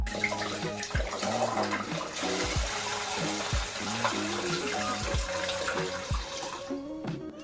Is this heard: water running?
yes